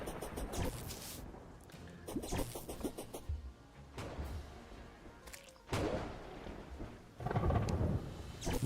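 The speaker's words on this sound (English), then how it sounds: "Thunderstorm. Fun." Thunderstorm in the video game Terraria, with rolling thunder booms and crackling rain swelling and fading in repeated loud bursts, alone without talk.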